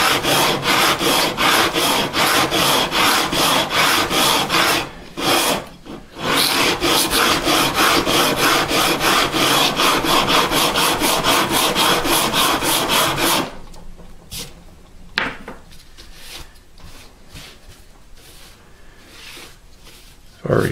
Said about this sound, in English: I don't want to create a twist in the fretboard as I sand the radius in.